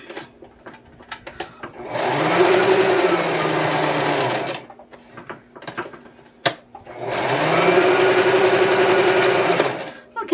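A sewing machine stitches fabric stars for a puffy Christmas wreath in two loud, steady whirring runs of about three seconds each, with brief handling clicks and pauses between and around them.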